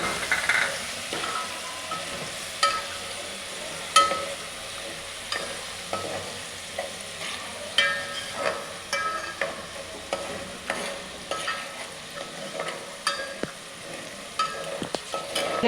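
Green garlic sizzles and fries in hot oil over browned garlic while a utensil stirs it around a pan, a steady crackle with scraping strokes, close and alone.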